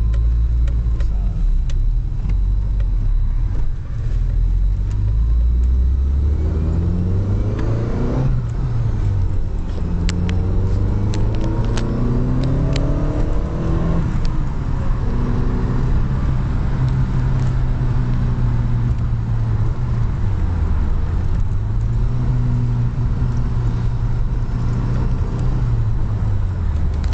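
Lancia Delta HF integrale engine heard from inside while driving, a constant loud rumble with pitch sweeping up through gears and easing back, steady road noise underneath.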